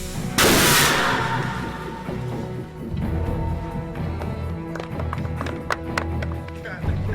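A Jericho missile demonstration explosion on the Iron Man film set in Lone Pine. A sudden, loud, booming blast fades into a long rumble, followed by scattered clattering and crackling.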